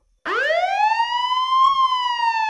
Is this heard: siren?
yes